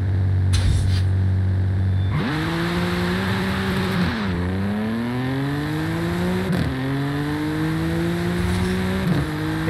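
A tuned 950 hp BMW M4 launches hard from a standstill in the racing game Forza Horizon 5, its engine screaming upward through rising revs with sharp gear shifts, loud and close throughout.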